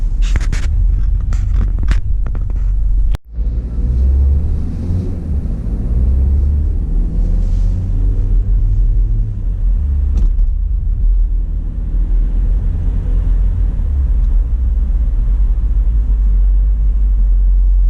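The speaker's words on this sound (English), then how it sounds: "there's a lot of traffic on Grand River this morning." A car drives through steady morning traffic on Grand River in Detroit on the way along M-5 westbound. Loud, constant low road rumble and engine drone fill the cabin, with a few sharp knocks near the start.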